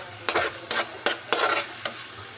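Tomatoes and potatoes fry in a pan for pork kaldereta, with onion and garlic already cooking, a steady close sizzle broken by five sharp stirring scrapes, no talking.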